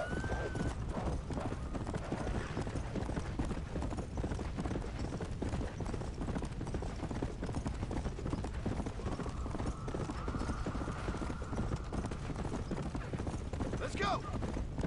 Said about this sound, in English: Oh, look, an undead horse.